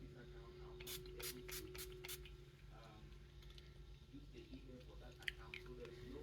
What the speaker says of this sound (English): I always make sure I set it with the setting spray